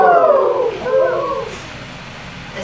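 Human voices imitate a great horned owl's call, a few low hooting, gliding tones heard up close, loud at first and then trailing off, with no other sounds around them.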